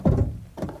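Nissan Magnite car bonnet latch releasing: two dull, close thunks, the first heavier, the second softer about half a second later.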